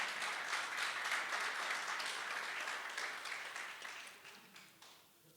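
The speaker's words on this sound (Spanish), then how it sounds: "denle un aplauso" Congregation applause during a church sermon, a steady wash of clapping from a large crowd heard at a distance, gradually fading toward the end.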